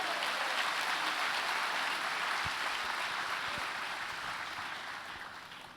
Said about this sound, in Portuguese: Mais um aplauso ao Senhor.